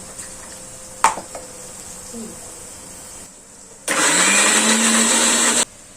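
A kitchen blender whirs loudly for about two seconds as it grinds ginger and garlic with a little water into a paste, after a short knock and some quieter clatter.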